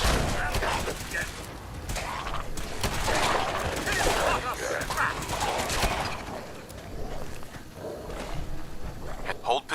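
Gunfire in Fallout 4, scattered bursts of shots mixed with a busy, noisy backdrop of combat, with voices talking over much of it.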